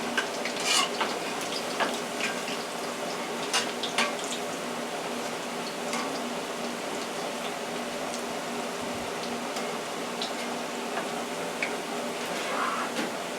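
Chicken livers fry in a pan with a steady, close crackling sizzle, broken by scattered pops and a few brief stirring sounds, with no talk over it.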